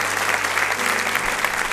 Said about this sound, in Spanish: Le damos un aplauso al Espíritu Santo por permitirnos estar esta mañana aquí